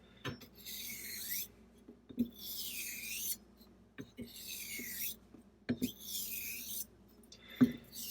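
A straight razor is honed on a sharpening stone in slow rolling strokes, each a soft rasping hiss, with faint clicks as the blade turns at the end of every pass, close and quiet.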